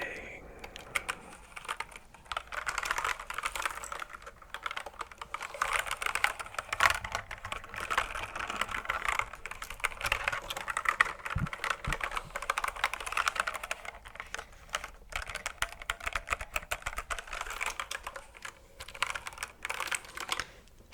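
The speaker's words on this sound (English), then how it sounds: "expect some tingly keyboard typing sounds, as well as some calm and relaxing coding" Continuous clicky computer keyboard typing, close and steady, with bursts of keystrokes running on without pause over a faint background hum.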